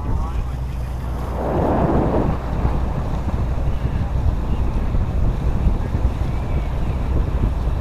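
A river boat travels down the Mahakam river, its engine a low steady rumble under heavy wind noise and splashing water, with a brief louder gush of water early on.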